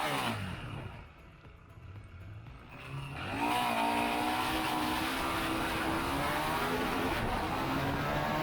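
KTM 890 Duke R motorcycle pulling away hard on an improvised drag strip, its engine note rising after a quieter idle into a loud, sustained climbing roar through the revs.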